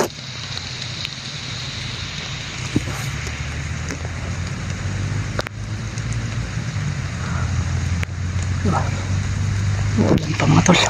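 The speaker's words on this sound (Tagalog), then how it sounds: "Ulan pa mga tol." Steady rain falls and patters on surfaces outdoors, a continuous hiss with scattered louder drops and taps, under occasional voices and background activity.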